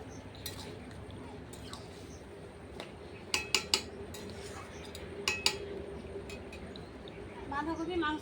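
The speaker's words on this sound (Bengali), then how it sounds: "পানি দিয়ে ভালো করে নেড়ে দেবো।" Beef and cabbage curry is stirred in a pot over a clay stove after water is added, with a few clustered metal clinks over a steady low background hiss, and a voice begins speaking at the end.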